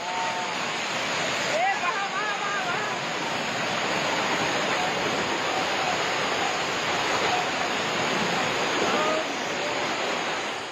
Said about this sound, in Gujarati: પાણીનો વેગ એટલો ખતરનાક હતો કે એ બાઇકને પકડવાની પણ કોઈની હિંમત ન થઈ